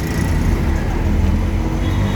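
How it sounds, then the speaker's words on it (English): Continuous rumble of an auto rickshaw riding through Surat street traffic, with dense engine and road noise from surrounding vehicles, steady and fairly loud throughout. "We're in an auto rickshaw."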